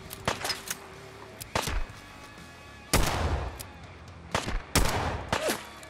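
Gunfire in Fallout 4, sharp close shots fired singly and in short clusters with gaps between, each with a brief echoing tail.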